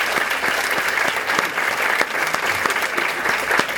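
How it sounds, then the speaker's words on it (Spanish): Loud, steady applause from a seated audience at a professional skills talk, many hands clapping densely without a break and no voices over it. "Unos fuertes aplausos, por favor."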